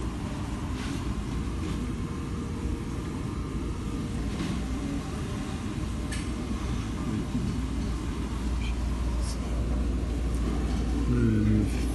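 Primus washing machine on its spin cycle, giving off a steady, continuous low rumble that holds evenly throughout with no other sounds over it.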